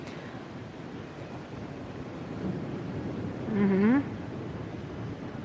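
Wind gusts across an outdoor microphone during a live stream, a steady low rumbling buffet that swells slightly, with a brief murmured vocal sound near the end.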